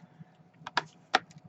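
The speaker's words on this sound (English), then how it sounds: "First I cut the edge off." A blade trims the edge off a sheet of faux leather, giving a few short, quiet crisp cutting clicks close by with no talking.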